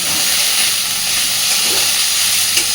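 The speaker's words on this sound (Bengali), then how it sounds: "সুন্দর করে সব কিছুর সাথে কাঁচকলার খোসাটাকে ভাজতে থাকবো" Raw banana peels fry in a pan over a medium gas flame, giving a loud, steady sizzle and hiss that runs without a break from start to finish.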